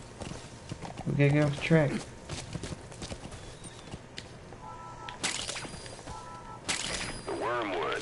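Horse hooves clop on the ground in Metal Gear Solid 5, a quick run of hoof beats under a man's speech, with game music and other effects around them.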